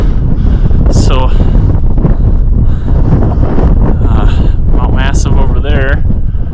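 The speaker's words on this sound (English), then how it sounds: "it's very, very windy up here." Heavy wind on the Mt. Elbert summit buffets the microphone nonstop, a loud roaring rush with brief voices breaking through underneath.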